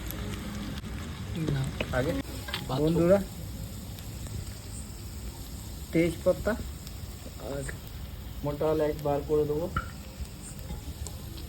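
Onion and ginger fry in a pan, a steady low sizzle running throughout beneath someone speaking in bursts.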